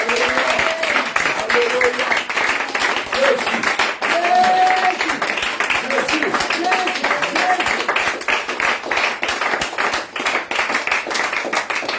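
A church congregation at a prayer and teaching cell in Yopougon claps and cheers in acclaim of Jesus, a dense, steady wash of applause mixed with shouting voices that carries on throughout.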